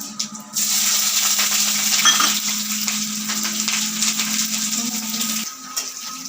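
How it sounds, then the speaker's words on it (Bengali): Bay leaf, slit green chillies and onion frying in hot oil in a pan, a steady close sizzle with some stirring, no talk. "তেজপাতা একটু ফোড়ন দিচ্ছি তারপরে চেরা কাঁচা লঙ্কা আর পেঁয়াজ"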